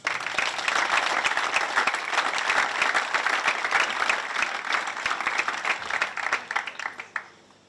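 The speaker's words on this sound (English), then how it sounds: "So send them off for a round of applause." An audience applauds at the Storm Lucky Larsen Masters 2018 bowling final, with dense, sustained clapping that holds steady for several seconds before tapering off near the end.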